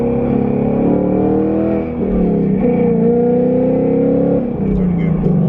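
Tuned Mustang GT, a corn-fed FBO car making around 500 wheel horsepower, pulling hard in third gear, its engine note climbing steadily and loud from inside the cabin, with a short dip between shifts and a voice partly underneath.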